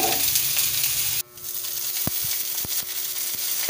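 Mushrooms frying in a pan after garlic and onion, a continuous sizzle with a few sharp clinks and scrapes of the stirring utensil against the pan, no talk.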